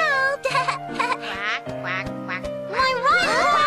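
A cartoon duck quacks repeatedly in bright, nasal, stuttering bursts, loud and close, mixed with a light animated-show music bed.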